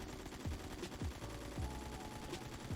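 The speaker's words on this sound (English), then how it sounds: "we're gonna do the hip fire next" Hip-fire bursts from a gun in the Phantom Forces shooter game, several rapid automatic volleys with sharp cracks repeating in quick succession at close range.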